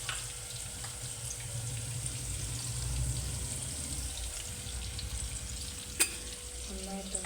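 Oil sizzles steadily in a pan while ingredients brown for a fish curry, a soft continuous crackle with a sharp clink near the end.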